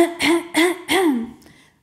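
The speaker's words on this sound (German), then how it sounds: "Wenn der Rachen trocken ist, so dass einem die Stimme wegbleibt und man sich ständig räuspern muss" A person clears their throat close up in three quick voiced rasps, trailing off into a faint final breath.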